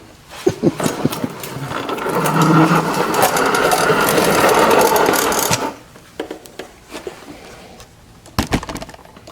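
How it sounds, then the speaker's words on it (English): A 1982 Chevy Silverado C10 engine cranking in loud rapid bursts that build into a rough running roar for several seconds, then cut out, followed by scattered clanks and a final short burst. "put the spark plug wires on and try and crank this thing up"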